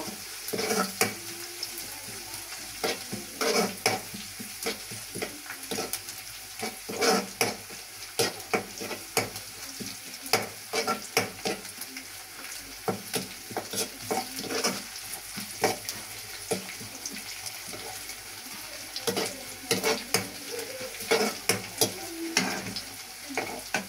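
Garlic fries in a pan over a wood-fired stove, giving a dense crackling sizzle with frequent sharp clatters and scrapes of a utensil stirring throughout, close and fairly loud.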